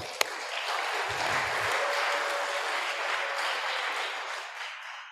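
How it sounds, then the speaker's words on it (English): Seminar audience applause at an engineering faculty event in Indonesia, a fairly faint, even hiss of many hands clapping at a distance, holding steady for several seconds before tapering off. "Once again, please give them applause"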